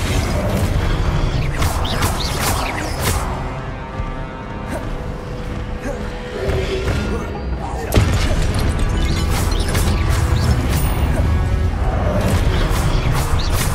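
In the video game Hogwarts Legacy, a Confringo spell bursts into a fiery explosion within continuous, loud combat clamour, with a heavy impact surging partway through.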